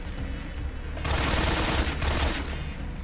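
AK rifle gunfire in Metal Gear Solid 3 during a boss battle, a dense stretch of rapid shots that swells in the middle over a busy game background, with no voices.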